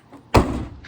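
The hood of a BMW 335is with an N54 engine is shut with a single solid thump, close by, followed by a short fading rattle.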